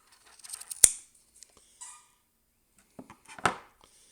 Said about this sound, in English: Then you can just cut it off to the length you want.